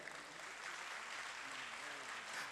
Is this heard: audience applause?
yes